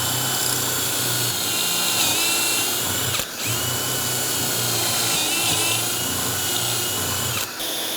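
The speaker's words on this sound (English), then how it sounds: "and drill." A power drill whirs loudly and continuously nearby, with two brief dips in its steady high-pitched whine.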